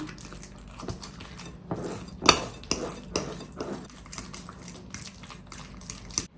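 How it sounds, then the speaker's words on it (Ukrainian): A spoon scrapes and clinks around a bowl in quick, irregular strokes, stirring syrniki batter of cottage cheese, egg and salt, a close, wet stirring sound with no talking. "додаю сіль, ще раз ретельно все перемішую"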